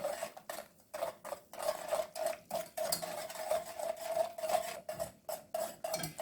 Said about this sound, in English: So you want to constantly stir this, aiming for the sugar to melt out, to dissolve out, and the butter melts out.